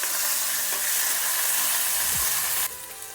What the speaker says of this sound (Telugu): వెల్లుల్లి రెబ్బలు కూడా వేసి వేయించుకున్నాం.